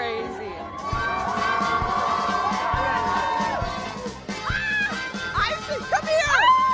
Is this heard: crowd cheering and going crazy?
yes